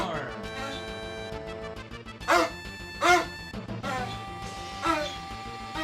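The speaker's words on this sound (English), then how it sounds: "What are you howling to the moon for?" A dog in Final Fantasy VII cries out in several wavering, rising howls and yelps spaced over a few seconds, set against a sustained tonal game background.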